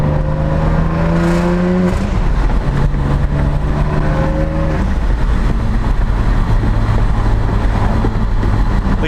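A Saab 9-3 Turbo X engine revs through a downshift during a drive, with loud rising and falling tones that step down in pitch between gears, heard up close from inside the car.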